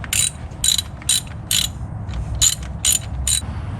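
Fuel system fittings in a garage being tightened down with a ratchet wrench, a close, loud run of about seven quick clicking bursts in an uneven rhythm, with no talking.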